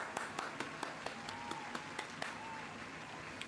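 Hands clapping for the rapper Quezz, a steady run of sharp claps at a brisk, regular pace, fairly close and moderately loud over a soft background hum, with no talking.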